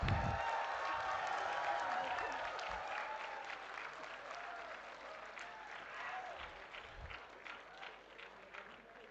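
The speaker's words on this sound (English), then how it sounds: "kindly give our graduates a huge round of applause" Dense, sustained applause from a large audience honoring graduates at an engineering institute's convocation ceremony, a continuous wash of many hands clapping at moderate distance that slowly fades.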